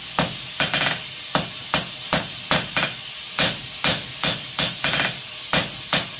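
Sharp, evenly spaced hammer blows ring out as a 1/4-inch steel rod is forged into a short taper for a nail header, about a dozen strikes close up with a faint hiss between them.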